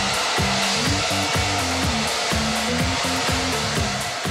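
A handheld hairdryer blows steadily on hair during a salon-style blow-dry, a continuous airy whoosh with a faint rhythmic fluttering beneath it.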